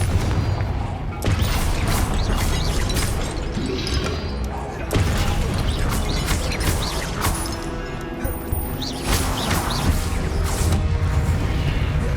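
Confringo blasting spells fired in the wizarding game Hogwarts Legacy during a fight, giving repeated loud booms and crashing impacts amid other combat effects and clattering, with a voice casting spells over them.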